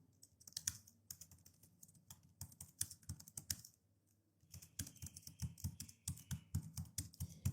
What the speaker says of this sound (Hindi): अब मैं यहाँ पर इसको टाइप करता हूँ